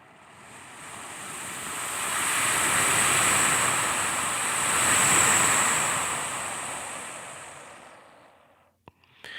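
Human breath mimics ocean waves for a film soundtrack, a broad hissing surge that swells twice and then fades, with no talking.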